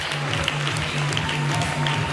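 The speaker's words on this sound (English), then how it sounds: "with a round of applause." An audience at a pageant event in Karnataka applauds, steady clapping filling the hall for a couple of seconds with a constant low hum beneath.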